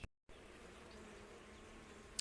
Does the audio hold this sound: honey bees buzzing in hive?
yes